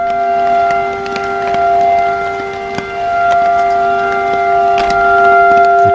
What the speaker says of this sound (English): The tornado sirens have been going off for about an hour.